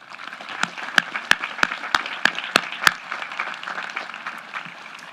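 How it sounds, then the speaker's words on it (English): Scattered applause from a small crowd at a high school graduation ceremony, with several sharp, distinct claps standing out before the clapping thins and fades. "Please join me in a round of applause"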